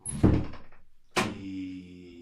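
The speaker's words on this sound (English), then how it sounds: "I'm about to shut the door" A door thuds shut after a brief rattle, followed by a lingering resonant hum that slowly fades.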